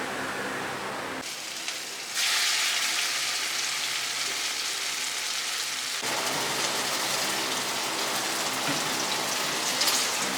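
Pakora fritters frying in hot oil in a home kitchen on a rainy day, a dense steady sizzle that swells after a short quieter start and holds loud and even to the end.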